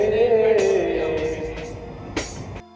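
A passenger train runs between Siliguri Junction and Hamiltonganj in North Bengal, with a steady close rumble, a whining wheel squeal that fades, and brief clattering bursts.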